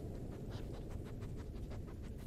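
A dog panting in the horror video game Blair Witch, a steady, quick, faint rhythm of breaths over a low background hum.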